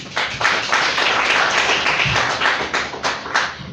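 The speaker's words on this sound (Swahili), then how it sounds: "Tumpigie Bwana Yesu makofi." A church congregation claps for the Lord Jesus in a dense, continuous round of applause, many hands overlapping with a few sharper slaps standing out, close and loud throughout.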